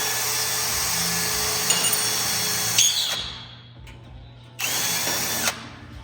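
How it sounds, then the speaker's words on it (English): A power drill bores a pilot hole during FJ40 body and rock-slider fabrication. Its loud, steady whine runs for about three seconds, falls away, then returns in a short second burst with the speed turned up. "pilot hole first, and then we'll go into regular 1/4 inch. Let's turn the speed up there a little bit."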